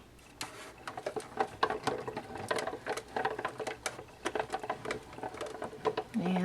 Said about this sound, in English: So when it's all sandwiched in like that, you start rolling it through the machine.